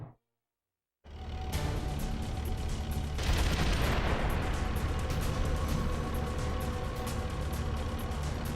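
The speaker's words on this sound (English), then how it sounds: "Use the weapon button to fire that machine gun." Sustained machine gun fire in Metal Gear Solid: The Twin Snakes, a dense, loud, continuous rattling barrage with heavy low rumble that starts after a second of silence and runs steadily to the end.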